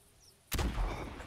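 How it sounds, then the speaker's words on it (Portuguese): A single loud rifle shot from a .45-70 Buffalo in a hunting video game, a sudden sharp blast followed by a rolling, booming tail that fills the rest of the moment. "Tá fazendo um disparo aqui entre o olho dele aqui, um pouquinho acima"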